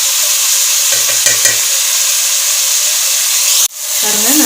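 Ingredients sauté in a pan for egg biryani, a loud, close, steady sizzle with a few clinks of stirring and a brief sharp knock near the end, with no clear talk.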